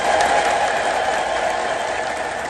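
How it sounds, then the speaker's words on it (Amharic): Audience applause at an Amharic religious address, a steady continuous wash of clapping held at an even level throughout, with no talk over it. "እስኪ አጨብጭቡ"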